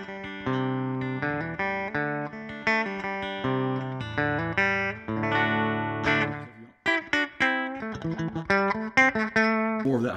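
Grote LPF-002 semi-hollow Les Paul-type electric guitar with its pickup coil-split engaged, played through effects: a run of bright, thinner chords and single notes, then quicker choppy strums and picked notes, loud and alone with no talk.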